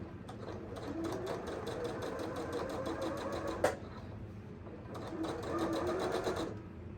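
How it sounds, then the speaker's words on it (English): Sewing machine stitching a long seam on a fabric book tote bag, a steady rapid mechanical rattle running continuously, pausing briefly with a sharp click midway before resuming, close and fairly loud. "I have to sew the whole length that was left open there."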